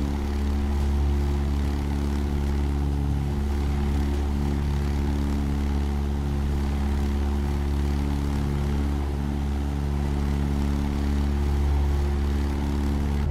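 A propeller airplane engine drones steadily and loudly in Microsoft Flight Simulator during a bush trip to Monument Valley, a constant close hum with strong low tones and no pauses.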